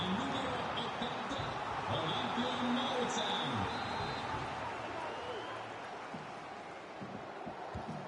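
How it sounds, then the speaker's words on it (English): Stadium crowd noise from an FC 25 Serie A match, Pisa against Lazio, a steady roaring wash of spectators building during a promising attack, mixed with continuous commentary talk over it. "Well, just listen to the crowd. They know this is a big chance to equalise."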